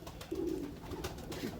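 A golden pigeon, a flying bird kept in a loft, gives a few soft, low coos close by, one longer drawn-out call followed by shorter ones.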